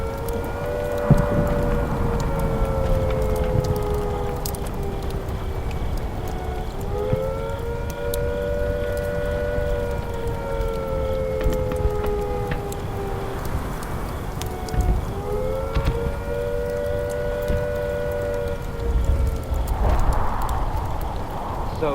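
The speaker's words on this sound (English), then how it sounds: "If attack is imminent, you will hear the attack sound like this." A civil defence attack warning siren wails in long rising and falling cycles, loud and steady, over a low rumbling background, with no voices.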